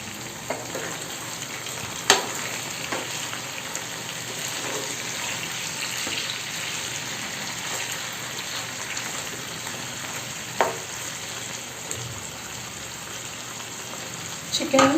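Chicken masala frying in a pan is stirred, a steady sizzle running throughout with a few sharp scraping knocks of the spoon against the pan, close and fairly loud.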